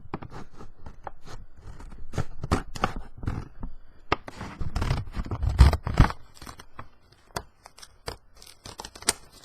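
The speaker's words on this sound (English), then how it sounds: "I'm gonna use my scissors." Scissors snip and crinkle through packaging for dark chocolate, a series of sharp close clicks, cuts and rustles in an irregular rhythm, some louder bursts in the middle, with no talking.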